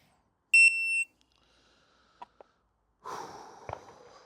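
A shot timer at a shooting range gives one loud, sharp electronic beep that lasts about half a second, followed by faint clicks and rustling movement.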